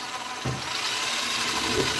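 A power drill spins fast to wind strings onto a guitar, giving a steady broadband whir that runs throughout at close range, with brief low thumps partway through.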